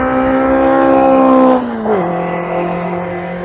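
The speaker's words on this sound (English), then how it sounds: "I can see the speedy imp is just heading into the chicane, so I'll wait for that to come through." A Hillman Imp race car takes the chicane at Goodwood Motor Circuit. Its loud, close engine drones steadily, then the pitch drops as it slows through the bend and settles at a lower, steady note.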